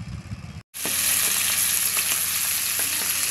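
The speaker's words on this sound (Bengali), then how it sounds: "তো আমার মাছটা ভাজা হয়ে গেছে।" Fish frying in a pan, a loud, close, continuous hissing sizzle that starts after a short pause and keeps going with faint crackles, no voices.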